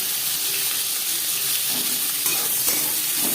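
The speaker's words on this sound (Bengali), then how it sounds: "সরষের তেল গরম করে নিয়েছি এবার দিয়ে দেবো পেঁয়াজ কুচি" Chopped onion hits hot mustard oil in a pan with a steady, close, loud sizzle and hiss that holds throughout, with no talk over it.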